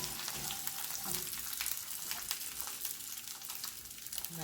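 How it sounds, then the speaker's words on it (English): Ridge gourd peel and tamarind sizzle in hot oil in a pan, a steady close frying hiss that runs the whole time with no talking. "And just saute everything with a little oil."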